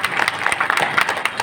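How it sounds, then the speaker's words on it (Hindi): Scattered hand clapping from a group at an outdoor training camp closing ceremony, irregular and fairly loud, with some voices mixed in. "अरे ताली बजा करके आप भी एक्यूप्रेशर कर लो भाई।"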